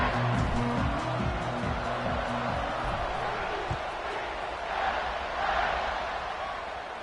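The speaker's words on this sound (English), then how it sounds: "They're set to kick it off, and this crowd now ready to get behind them." A football stadium crowd roars and shouts as the kickoff approaches, a dense, fluctuating din with rhythmic thumps and chanting, swelling again near the end.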